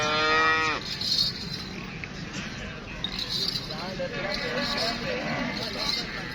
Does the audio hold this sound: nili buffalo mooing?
yes